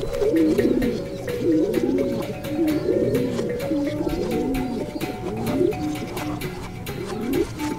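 Racing pigeons coo inside a loft, a dense run of overlapping, rhythmic low burbling calls close by, continuous and steady throughout with no speech.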